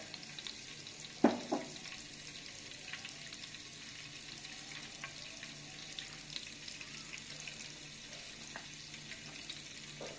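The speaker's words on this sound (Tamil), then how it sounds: "எண்ணெய் காயிற வரைக்கும் கொஞ்சம் வெயிட் பண்ணுங்கள்" About two ladles of cooking oil heat in a pan for chicken manchurian, giving a faint, steady sizzle and hiss with one brief clatter near the start and no voices.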